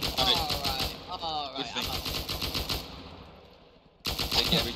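Rapid gunfire from a Roblox shooter game, bursts of automatic shots crackling loudly at the start and again at the end, with voices talking over the action in between.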